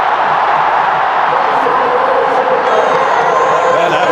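Huge stadium crowd of close to 120,000 supporters roaring in a steady, loud wash of cheering and shouting, with a commentator's voice over the top.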